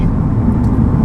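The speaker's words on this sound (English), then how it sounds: "When you step on it, the engine does definitely wake up" A 2014 Lexus IS350 F Sport's engine revs hard under acceleration, a loud, steady, continuous roar heard from close by with no talking.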